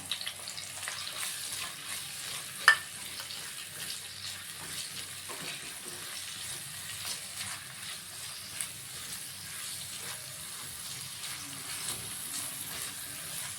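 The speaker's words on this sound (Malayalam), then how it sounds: "അപ്പോൾ അതിലേക്ക് നമ്മൾ ഉള്ളിയും ഇഞ്ചിയും വെളുത്തുള്ളിയും കൂടെ ഇടുകയാണ്." Onion, ginger and garlic frying in oil in a pan, stirred now and then, a steady soft sizzle throughout with a single sharp utensil clink early on and occasional light scrapes.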